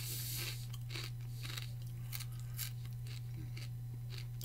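Pork rind being bitten and chewed, with repeated crisp crunches in a steady rhythm, close and clear over a low constant hum, with no talking.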